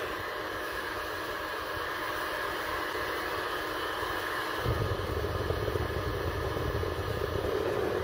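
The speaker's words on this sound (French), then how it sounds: "On démarre notre fonderie." A small homemade metal foundry furnace for melting aluminium ingots fires up, a steady broadband roar with a low rumble that swells noticeably about halfway through and then holds loud and constant.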